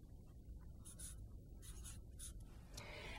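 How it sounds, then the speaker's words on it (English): A pen sketches a dollar-bill-sized outline on paper, giving soft, close scratching strokes in several short bursts with brief pauses between them. "what I'm going to do is kind of quickly sketch out the approximate size of a dollar bill"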